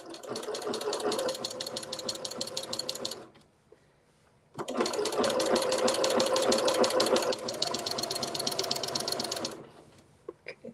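A sewing machine stitches a quilt in two steady runs of rapid mechanical chatter, the first about three seconds and the second about five, split by a short pause. It sounds close and busy, with no talking.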